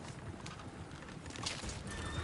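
Horses in the video game Red Dead Redemption 2, with clip-clopping hooves and a brief whinny in game audio that is fairly faint and busy.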